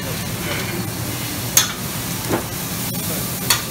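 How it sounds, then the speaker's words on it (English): Meat sizzles on a Mongolian barbecue grill at a hibachi buffet with a steady hiss, broken by a few sharp clanks and scrapes of utensils. "Sizzling away."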